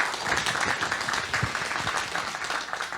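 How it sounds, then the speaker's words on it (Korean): An audience at a Korean book talk claps in a warm, even burst, many hands blending into a continuous patter that stays steady throughout with no talking over it. "우리 순이님에게도 박수 부탁드립니다"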